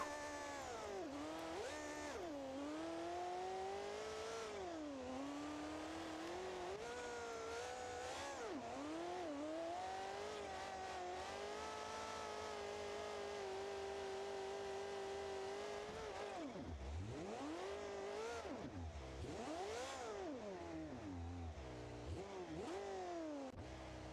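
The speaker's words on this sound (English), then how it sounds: "We have no blow-off valves, so that's why we have the big whooshes and the big..." A V10 monster truck engine from the BeamNG.drive game with no blow-off valves revs up and down repeatedly, its pitch sweeping and dipping with big turbo whooshes, continuous and unaccompanied by speech.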